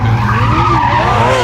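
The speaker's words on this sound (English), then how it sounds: "Already doing victory donuts." A sequential-shifting 610hp Trans Am spins victory donuts, its tires squealing in a loud, continuous, wavering howl over a droning engine, close and unbroken, with no talk.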